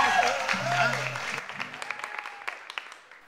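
Applause from a live crowd at a vallenato music performance follows a voice over the PA, the clapping emerging as sharp scattered claps that thin out and fade near the end.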